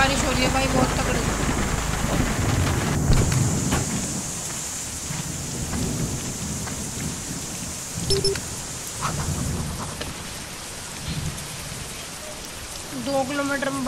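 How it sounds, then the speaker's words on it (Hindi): Heavy rain with rumbling thunder in a Russian UAZ Hunter cargo truck-driving game, a dense steady downpour hiss with low booming rolls, and someone talking over it now and then. "बारिश हो रही है भाई बहुत तगड़ी"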